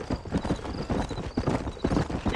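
A horse's hooves pound in a fast galloping rhythm in Red Dead Redemption, close and fairly loud, with faint snorting.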